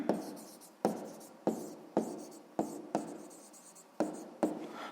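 A pen scratching on paper while working a sixth-grade math exercise, a quiet run of short strokes repeating about every half second.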